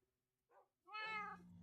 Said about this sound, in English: My cats definitely want attention.